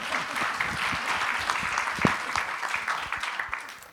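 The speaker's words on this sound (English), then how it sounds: "You may applaud. We have 30 seconds for that." Applause from a conference audience at an event on international humanitarian law: moderate, fairly even clapping that lasts a few seconds, heard at middle distance with no talk over it.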